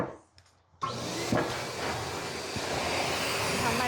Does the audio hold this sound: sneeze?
no